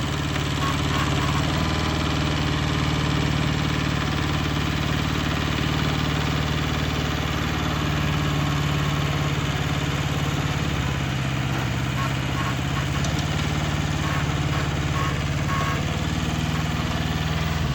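A Kubota B5001 compact tractor's engine idles steadily and close by, a constant low rumbling drone with a slight knock that runs unbroken for the whole stretch, with faint voices in the background.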